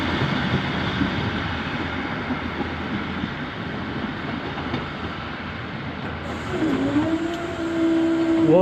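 Steady low rumble of a train rolling past a level crossing, with a rising warning tone or horn entering near the end.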